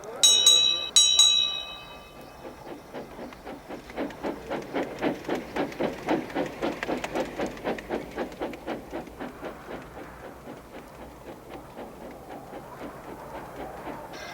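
A cartoon tram engine running along its branch line, opening with a couple of bright bell rings, then a steady rhythmic chuffing and clatter of wheels that carries on at an even pace, loud and close.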